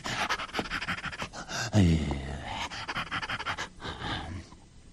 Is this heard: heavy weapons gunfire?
no